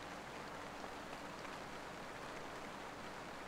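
Steady rain falling in the Motel Manager Simulator video game, a constant broadband hiss of drops on surfaces that holds even and unbroken throughout, with no other sounds standing out.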